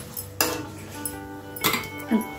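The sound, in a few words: lifting the lid off a cooking pot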